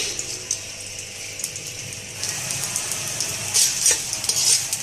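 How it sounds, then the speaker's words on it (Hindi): Edible gum (gond) frying in hot ghee gives a steady, close sizzle with occasional clinks and stirring scrapes of a utensil in the pan, and no one speaks. "अब ये जो रह गया इसको भी मैं फ्राई कर लेती हूँ इसी घी के अंदर"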